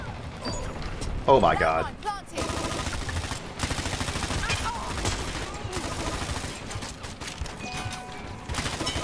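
Airstrike in the shooter game Dirty Bomb, a barrage of rapid explosive bursts and gunfire crackling across the whole stretch, with a man exclaiming over it.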